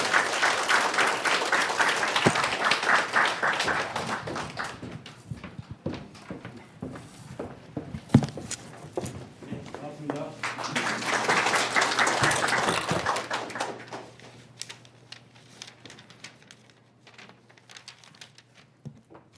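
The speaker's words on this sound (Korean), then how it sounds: "큰 박수로 환영해 주시기 바랍니다" An audience at a Korean reception for newly certified loss adjusters from the sixth exam applauds to welcome a speaker, in two swelling waves of dense clapping separated by a quieter lull.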